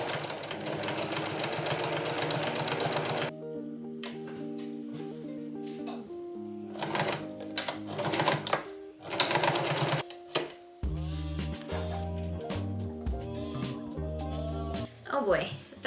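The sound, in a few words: sewing machine stitching a fabric book pouch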